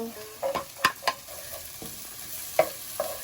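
Onions sautéing in a pan for a buffalo bone soup dish, a low sizzle punctuated by several sharp spatula scrapes and clacks against the pan, irregular and close.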